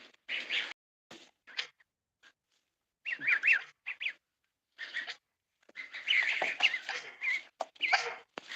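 Canada goslings and geese call in short bursts of high, squeaky peeping and honking chirps, fairly close, separated by quiet gaps, with some clusters of rapid overlapping calls.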